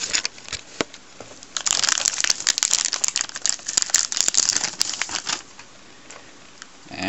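Close plastic crinkling and crackling of the bag packaging a WD 1TB Black Edition hard drive, rising to busy rustling in the middle, then settling into a few scattered crackles.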